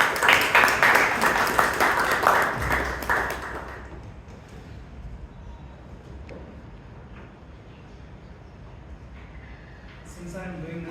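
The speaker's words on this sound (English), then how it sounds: "Give a round of applause." Applause from a club meeting audience, dense clapping for about four seconds that thins and fades into quiet room noise, with faint voices and a light tap near the end.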